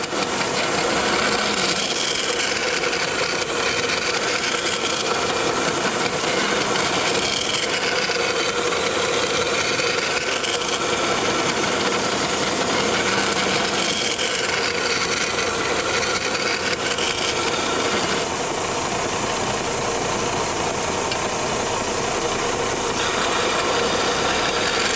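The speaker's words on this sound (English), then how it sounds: "I think the easiest way to get these radii is to use the belt sander" A belt sander grinds radii onto a metal tool-shelf part in a machine shop, a loud continuous abrasive rasp and motor whine that swells and eases as the part is pressed against the belt, with no voices.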